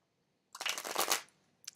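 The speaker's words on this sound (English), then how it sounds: "Cards, shiny gold, 3 shuffles." A deck of stiff, shiny gold playing cards is riffle-shuffled close up in one quick, crisp fluttering burst under a second, followed by a faint tap.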